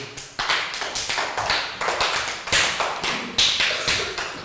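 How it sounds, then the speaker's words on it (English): Claps from a Year 3 classroom give a child a round of applause, coming as a short run of sharp, separate hand claps from a few people at a steady, uneven rhythm, close and fairly loud. "Round of applause for Chu."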